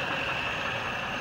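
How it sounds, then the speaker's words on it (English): A 2007 Chevrolet Silverado with an L33 V8 runs at a steady idle, giving a continuous, even engine hum up close with no talk over it. "Motor L33 V8 runs good."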